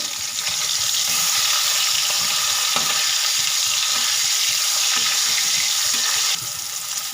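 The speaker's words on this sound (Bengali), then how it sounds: "আমি এবার উল্টে পাল্টে লাল লাল করে মাছগুলোকে ভেজে নেব" Pieces of rohu fish frying in hot oil in a pan, being turned over until browned; a steady loud sizzle runs throughout with faint scraping clicks from the turning, easing slightly near the end.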